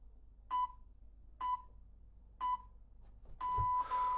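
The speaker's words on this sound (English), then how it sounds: "Listen out for the 3 beeps to let you know the interval is over." Three short, evenly spaced electronic interval timer beeps about a second apart during a workout, followed by a longer, louder sustained tone, with no talking.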